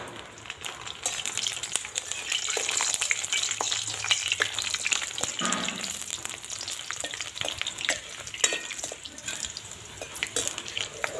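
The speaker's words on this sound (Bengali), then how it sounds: "এই যে কালারিং পাপড় ভাজছি" Coloured papad frying in hot oil: a steady, close sizzle with scattered crackles and pops, continuous throughout with no talking.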